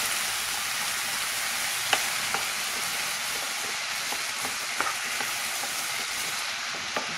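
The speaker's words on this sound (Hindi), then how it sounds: "बंद गोभी और हरी मिर्च, हल्दी भी. तो अभी इसको मिक्स करेंगे" Cabbage, green chili and turmeric stirred together in a hot pan, a steady broadband sizzle with a few soft spatula scrapes and taps scattered through, no talking.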